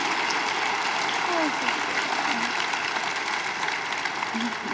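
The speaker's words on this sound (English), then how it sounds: "we can clap for this, absolutely." A church congregation claps for baby Quinn, a continuous wash of applause held at an even level throughout, with faint voices murmuring beneath it.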